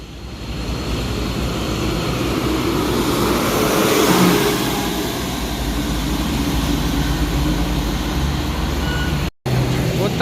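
A Putra Remaja intercity bus passes close by at a busy Palembang roadside, its engine roar swelling to a peak around the middle and fading, with a steady rumble throughout and a brief dropout near the end.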